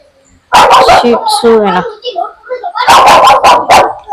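A dog barks loudly and close, a quick burst of yips followed by a whimpering whine, then another rapid run of barks.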